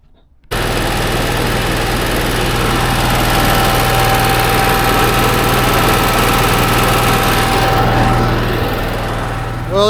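An Onan 5500 RV generator runs steadily after a carburetor repair, a loud, constant engine drone with a low hum and a thin steady whine, starting abruptly after a brief quiet moment and continuing without talk.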